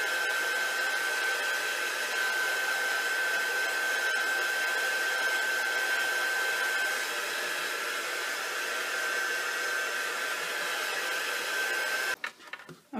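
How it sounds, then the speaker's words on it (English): A hair dryer blows steadily and loudly for about twelve seconds, held close over mixed media paint, then cuts off with a few brief clatters at the end. "Now let's give that a dry real quick."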